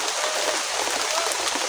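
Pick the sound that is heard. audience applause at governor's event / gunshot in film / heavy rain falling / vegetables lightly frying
heavy rain falling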